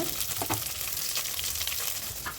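Beans, carrots and mustard seeds fry in hot oil in a pan, a close, steady sizzle with small crackles and pops throughout.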